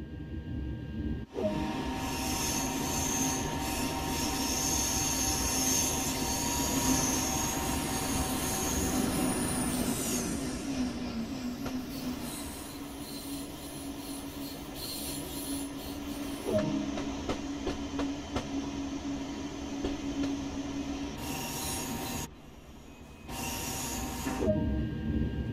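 An SNCF TGV high-speed train in motion on the LGV Méditerranée line between Marseille and Avignon in Train Sim World 2, a steady loud rumble with hiss and wheel noise that dips and shifts near the end, no talk.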